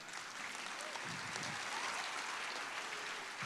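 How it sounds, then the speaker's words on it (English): An audience at a church service clapping together, a dense, even wash of applause that carries steadily without pause. "yeah, you can clap"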